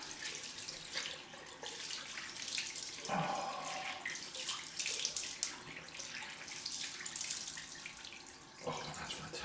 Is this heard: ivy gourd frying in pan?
no